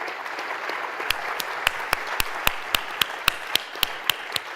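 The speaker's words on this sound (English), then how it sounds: "Round of applause." An audience at a conference panel session claps after a presenter finishes, a dense bed of applause with one nearby clapper standing out in sharp, evenly spaced loud claps.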